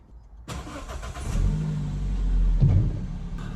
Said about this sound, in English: So let's start the car up and get a probe.